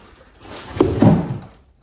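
A cat tips over a cardboard box indoors to climb inside, giving a couple of close, dull thumps with a soft scraping rustle in a quiet room.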